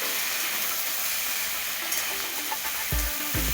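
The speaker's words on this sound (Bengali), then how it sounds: "দিয়ে সব কিছু ভালো করে মিশিয়ে ভেজে নিচ্ছে।" Chopped vegetable stalks fry in oil with panch phoron while being stirred, a continuous close hiss of frying with a few scraping clatters near the end and nobody speaking.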